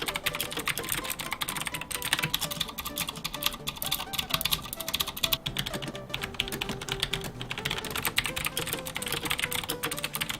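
Typing on a Tesoro Excalibur SE Spectrum keyboard with optical mechanical switches, a steady run of dense, fast keystroke clicks held close and fairly loud for the whole stretch.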